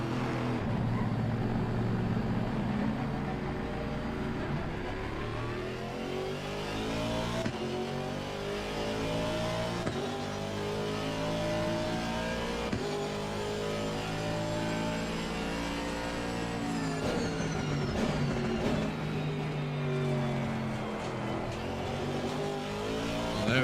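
Aston Martin AMR V8 race car engine in Assetto Corsa Competizione at the Kyalami circuit, revving and accelerating continuously with rising and falling engine pitch through gear changes, loud and close, with no talking.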